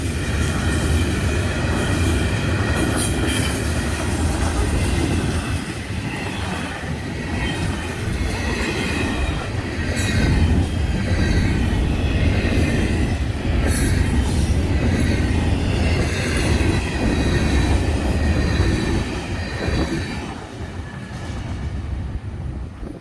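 Freight train 206 hauling a huge rock load rolls past in a long continuous rumble, wheels clattering and faint squeals over the steady roar, loud and sustained throughout.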